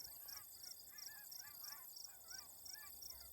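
Geese honking as they fly past during a bow hunt, a rhythmic series of distant nasal calls repeating about twice per second, faint, with quiet talk in the clip.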